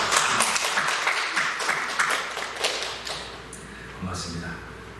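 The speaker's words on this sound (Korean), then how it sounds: "박수 한번." Church congregation clapping for two graduating students at a Sunday service: a burst of applause that starts strong, then thins and fades over several seconds, with voices audible underneath.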